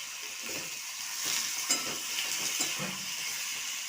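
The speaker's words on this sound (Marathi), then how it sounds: "वांग्यांना चांगलं हलवून घ्यायचं आहे त्याच्यामध्ये नमक टाकून घ्यायचं आहे" Eggplant being stirred with salt in a hot pan, a steady soft sizzle under repeated scraping strokes of a spoon against the pan, fairly close and moderate in level, with no talking.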